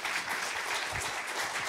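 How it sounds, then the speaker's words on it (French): An audience applauds a speaker at a live corporate event, a brief, dense and even burst of many hands clapping in a hall. "Je crois qu'on peut l'applaudir et le remercier."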